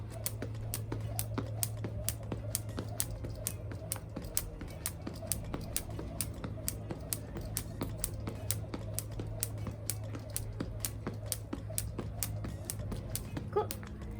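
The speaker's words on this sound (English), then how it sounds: "So let's go ahead and grab our jump rope. Let's start with 30 rotations." A jump rope skips through 30 rotations, its rope slapping the floor in quick, evenly spaced ticks, close and crisp over a low steady hum.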